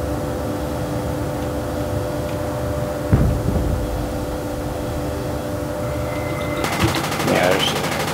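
Tank gunfire in the video game Project Reality, a heavy boom punching through a constant engine drone, then a second burst near the end, loud and close.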